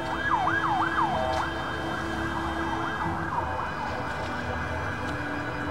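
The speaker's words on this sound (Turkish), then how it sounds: "Ve siren sesleri." A wailing emergency siren sweeps up and down several times, then fades into a steady mix of traffic noise and distant siren tones.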